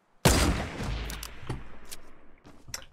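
A single loud gunshot cracks out in Fortnite, sharp and close, followed by a long decaying echo with a few fainter distant shots and clicks after it.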